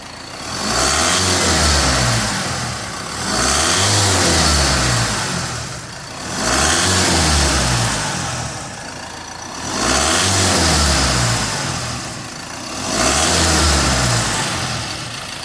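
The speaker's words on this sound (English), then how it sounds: "Okay, we're going to give it 5 revs for you now." A 2015 Ford Transit Custom 270 Eco Tech diesel with 108k miles, revved five times in a row, each rev rising and falling back to idle, loud and close with no talk.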